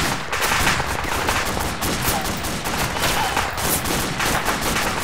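Dense, continuous gunfire from Arma 2, with many overlapping shots and bursts forming a steady loud barrage of rattling fire, no pauses throughout.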